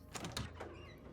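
Double door opening in the survival horror game Daymare: 1998, a quiet short mechanical slide with a few soft clunks at the start, then a fading hiss of movement.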